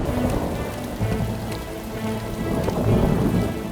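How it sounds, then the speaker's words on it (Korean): Heavy rain pours down at night in a dramatic film scene, a dense loud roar of downpour with rumbling thunder rolling underneath throughout. "결국 비가 미친 듯이 쏟아지던 어느 날 밤"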